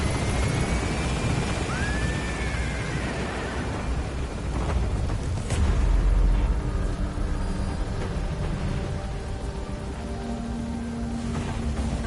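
The Pequod helicopter in Metal Gear Solid V gains altitude at a landing zone, giving a steady, loud rotor and engine rumble throughout. A heavier swell comes midway, with faint game tones on top.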